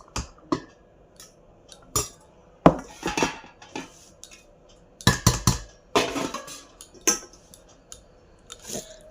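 Metal serving utensils scrape and clink against plates and pots as hot rice is dished out, in irregular close clatters and taps spread over several seconds, with no talk.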